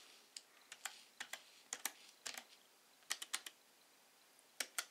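Typing on a computer keyboard connected by OTG cable to a Samsung Galaxy Tab, crisp close key clicks arriving in irregular bursts of two to four strokes, with quiet gaps between them and no voices.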